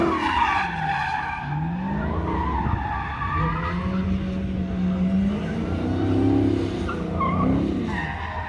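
A car races around a track at a Mecum auction in Kissimmee, tires squealing and skidding through turns while the engine revs and surges, heard from the trackside at moderate distance.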